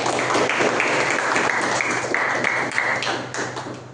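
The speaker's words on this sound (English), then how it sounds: "Let us give him a round of applause." Applause from an audience at a Diwali special club meeting, a steady even wash of many hands clapping close by for several seconds before thinning out at the end, with no talk over it.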